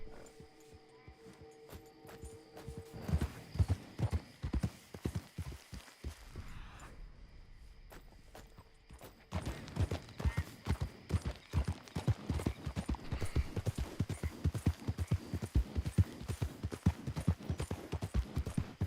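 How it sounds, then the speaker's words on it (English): Horse hooves clip-clopping in Red Dead Redemption 2, rapid rhythmic thuds of riding that briefly slow and soften mid-clip, then pick up again louder and steady, with speech at times. "But that weren't just your usual ghost horses of Saint Denis type riding."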